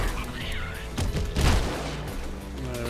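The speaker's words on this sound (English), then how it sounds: "Cluster grenade. They're fun." Cluster grenade bursting in the action game Rogue Stormers, a cluster of booming blasts and crackling explosions peaking mid-clip over continuous game music and effects.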